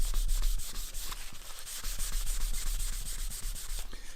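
A damp cloth rubs and wipes polishing compound off a wooden surface in steady, repeated back-and-forth strokes, close and fairly loud, with no voices.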